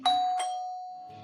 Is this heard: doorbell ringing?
yes